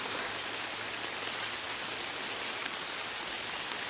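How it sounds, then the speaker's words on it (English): Steady rain falls on a wooded bike trail along a river, a continuous even hiss with no pauses and no voices. "It's still raining, but at least it's not a heavy downpour."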